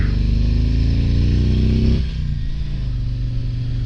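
A stock 2023 Road Glide 3 trike's motorcycle engine revs loudly and steadily for about two seconds, then drops back to a rough, rumbling idle.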